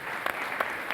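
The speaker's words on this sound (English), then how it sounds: "Let's give him a round of applause" Steady applause from a crowd, a continuous patter of clapping with no voices over it.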